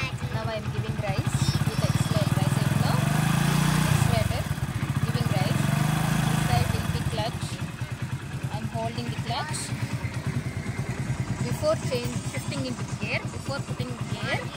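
A motorcycle engine idles close by, rising in a strong rev for a few seconds before settling back to a steady putter, with someone talking over it.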